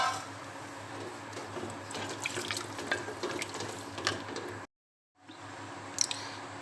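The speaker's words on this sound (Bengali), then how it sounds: "এখন আমি এখানে দিয়ে দিব পানি" Water poured into fish curry in a pan, a steady splashing pour for several seconds, a brief break, then a short trickle resuming nearby.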